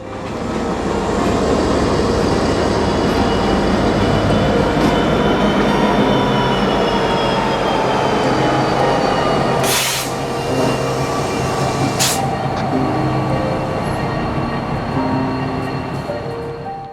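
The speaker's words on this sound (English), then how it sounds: "the locomotive starts reversing once more to couple up to that cut" A freight locomotive reverses to couple onto a cut of rail cars with a steady, loud rumble of engine and rolling wheels, broken by two brief, sharp hissing bursts partway through.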